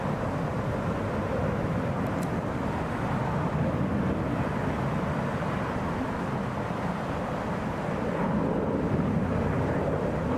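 A Southwest Airlines Boeing 737 takes off from Hartsfield-Jackson Atlanta International Airport, its jet engines making a loud, steady roar that stays heavy and broadband throughout and is mixed with wind noise.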